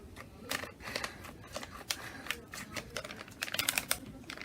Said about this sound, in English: Okay, get the scissors. Now let's cut it.